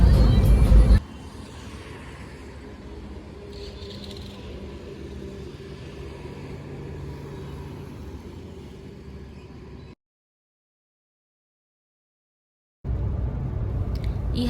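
A car cruises along a quiet highway on a road trip from Hyderabad to Mahabaleshwar. A steady low cabin rumble runs throughout, with louder stretches at the start and end and a brief silent gap.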